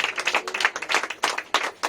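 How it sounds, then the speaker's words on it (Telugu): Congregation clapping loudly during church worship praise, a dense, steady run of handclaps with brief surges, close and bright, no voices over it. "గట్టిగా చప్పట్లు కొడుతూ దేవుని మహిమపరుద్దాం"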